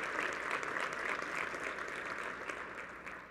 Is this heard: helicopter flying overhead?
no